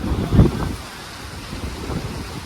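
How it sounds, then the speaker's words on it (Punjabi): A low rumble of thunder rolls in early, then steady rain and wind noise continue over ripe wheat fields, without any voices. "ਲੈ ਬਈ ਮੀਂਹ ਅੱਜ ਫੇਰ ਆ ਗਿਆ"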